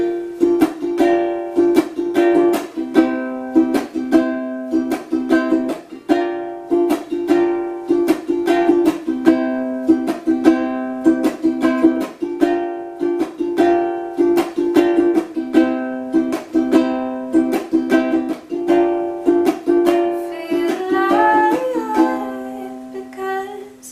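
Ukulele strumming a chord progression for two songs, with percussive muted chucks in a steady, driving rhythm, close and clear, ending on a final strummed chord with no talking.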